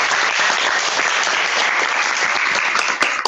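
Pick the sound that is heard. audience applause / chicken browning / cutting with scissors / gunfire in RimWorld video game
audience applause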